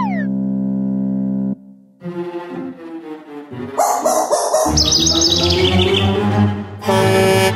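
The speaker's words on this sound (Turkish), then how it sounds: "Yavru kuş!" A cartoon baby bird in a children's animated show chirps in bright, high squeaky bursts, mixed with sliding tones and other playful cartoon sound effects, close and loud with no talking.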